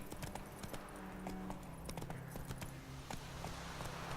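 Horse hooves clip-clopping at a walk in The Witcher on Xbox One: a steady, close run of hoof beats with faint jingling tack, and no talk over it.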